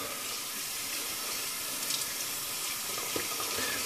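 A shaving brush is rinsed under a running bathroom tap after a straight razor shave, giving a steady, close hiss of flowing water with a little splashing and no talk.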